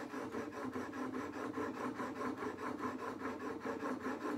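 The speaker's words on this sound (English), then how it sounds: "put a little bit of oil on the stone, double check that our bevel's flat, and work it back and forth on your stone" Steady rhythmic rasping of a plane or chisel blade worked back and forth on an oiled sharpening stone, held flat in a wheeled honing jig; close, continuous strokes at an even pace with no talk.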